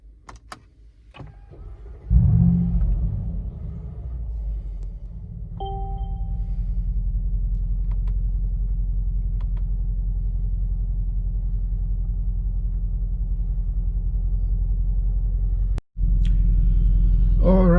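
A 2020 Mercedes G800 Brabus engine cranks and fires with a loud low roar, then settles into a steady, deep idle rumble, close by, with a brief click partway through and a short dropout near the end.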